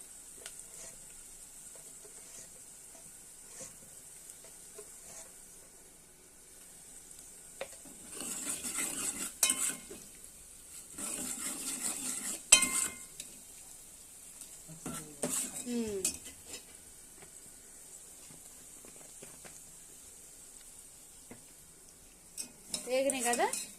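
Turmeric being stirred into a sizzling tempering in a pan for brinjal curry, with scattered scraping and clinking of a utensil against metal, a few louder bursts of stirring amid a faint steady sizzle.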